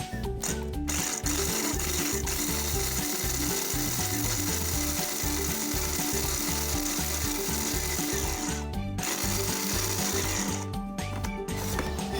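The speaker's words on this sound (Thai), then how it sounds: "เดี๋ยวเราจะมาปั่นพริกกันนะคะ" Chillies whizzed in an electric blender for a Thai crispy pork and kale salad dressing, a steady loud motor whir with grinding, pulsing churn that runs throughout with no talking.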